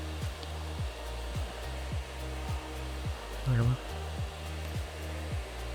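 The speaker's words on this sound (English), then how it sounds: "And now the C-axis on the guide bushing rotates independently from the main spindle." A Tsugami Swiss-type CNC lathe runs its main spindle and guide bushing, a quiet steady machine hum with a regular ticking pulse about every second and a brief mechanical clunk midway.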